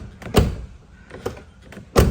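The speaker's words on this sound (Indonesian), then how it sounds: "tutupan pintu masih enak" Car doors on a 2004 Isuzu Panther LS Turbo are shut with three solid thuds spread over about two seconds, each one close and distinct, with no talking.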